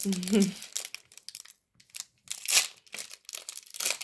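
Foil wrapping of a Magic: The Gathering booster pack is crinkled and torn open by hand in several short bursts. A voice is heard briefly at the start.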